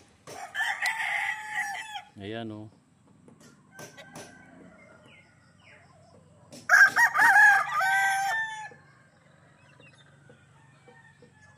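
Game fowl roosters crow loudly at a game farm in Bauang, La Union, two long close crows spaced several seconds apart, with brief clucks and a short spoken remark between them.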